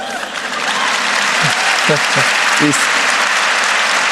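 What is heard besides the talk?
audience applause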